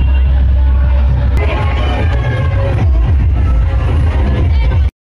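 Dense, steady roar of a large crowd at a Ram Navami rally in Raiganj, a continuous close wash of voices and shuffling with scattered shouts and a sharp bang, cutting off abruptly at the end.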